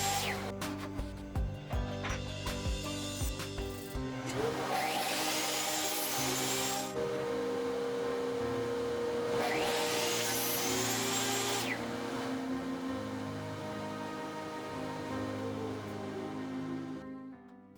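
A table saw rips plywood down to final length in a workshop, two loud whining cuts rising over a steady motor hum, each lasting a couple of seconds with the spinning blade running between them.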